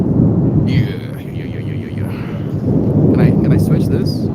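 Thunder from a lightning storm rumbles loud and continuous, with heavy rumbling throughout and rain in the background.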